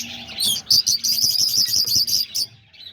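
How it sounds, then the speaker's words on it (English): Peach-faced lovebirds chirp rapidly and repeatedly in a dense, shrill chatter, with several birds calling over one another close by. "I don't know why lovebirds are so noisy"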